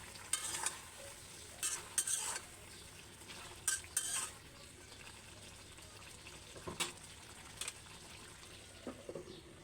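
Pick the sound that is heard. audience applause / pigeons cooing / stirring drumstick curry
stirring drumstick curry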